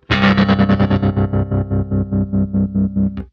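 A bass guitar played dry with no overdrive pedal, a series of steady plucked notes in an even rhythm, loud and clear and alone, the notes fading slightly toward the end.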